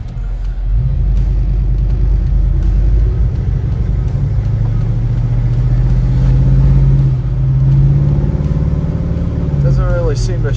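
A 1968 Ford Country Sedan station wagon pulls away, its engine rumbling low and loud as it rises and settles through lazy gear changes, with people talking over the steady drone.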